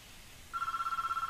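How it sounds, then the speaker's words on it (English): A telephone rings with a steady electronic tone, starting about halfway in and continuing as a pulsing ring, fairly clear with no talk over it. "phone's ringing."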